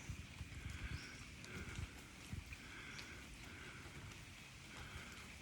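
Raindrops fall among the moss-covered, collapsed stone ruins of Beng Mealea temple near Siem Reap, a soft steady patter with irregular nearby drips and taps, quiet and without voices.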